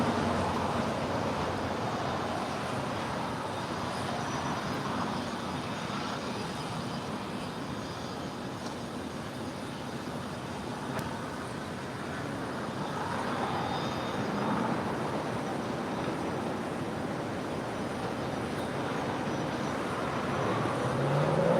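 Jet engines roar steadily as a Lufthansa Boeing 747 rolls for takeoff on the north side at LAX, a broad distant rumble that swells gently and holds through the stretch with no talking.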